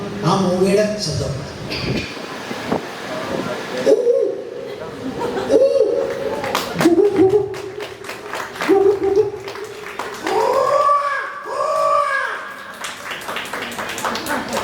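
A voice imitates an owl, giving low, hollow hoots in a repeating series up close, with rising and falling wavering calls near the end and light applause and chatter behind.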